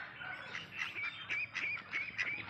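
Several ducks quack and honk continuously in a noisy chorus, close by, with overlapping calls and no talking.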